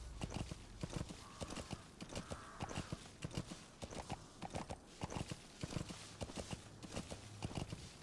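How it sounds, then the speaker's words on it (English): Horse hooves clip-clop at a steady walking rhythm in Metal Gear Solid V, a repeated sequence of close, distinct thuds with faint game ambience underneath and no talk. "Don't mind me, just a normal horse."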